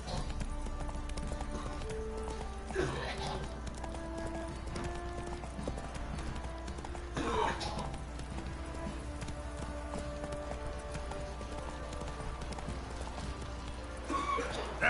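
The horse Roach gallops in The Witcher III, its hooves clip-clopping in a steady, even rhythm, with a few louder bursts of movement over a low constant background hum.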